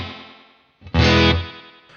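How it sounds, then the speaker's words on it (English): An emulated tape echo on a Boss Space Echo RE-202 sweeps its pitch as the tape speed rises, a fading tone giving way to a loud, warbling, distorted burst before it trails off. "you can even hear that kind of speeding up sound"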